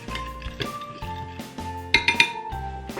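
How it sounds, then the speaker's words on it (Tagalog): A spoon stirs instant coffee and sugar in a bowl or cup while making dalgona coffee, with a few bright clinks and taps against the container standing out near the end. "and next is our instant coffee. Stir it and make sure that they are all well combined."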